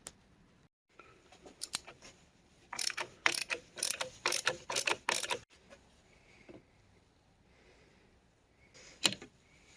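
A replacement motor being screwed onto a rear passenger window regulator from a BMW E83 X3, heard as quick, sharp ratcheting bursts from a hand tool in a quiet space, with a few faint clicks before and after.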